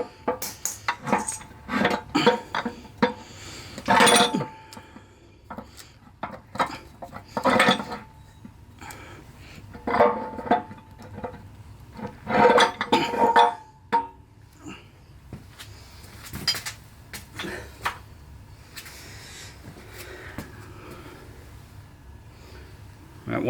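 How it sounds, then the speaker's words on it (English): A Ford 5-speed tractor transmission being disassembled: sharp metallic clanks and clinks of gears and a rear bearing dropping off, scattered irregular impacts close by with quiet gaps between. "That one sound you heard was the bearing on the rear falling off."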